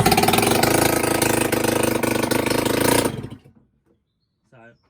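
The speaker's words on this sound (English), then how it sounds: "The engine is back in and everything's connected up except the exhaust, so you can see it now start" A Piaggio Typhoon two-stroke scooter engine, running without its exhaust, roars loudly and steadily for about three seconds, then cuts out abruptly, followed by a brief faint sound near the end.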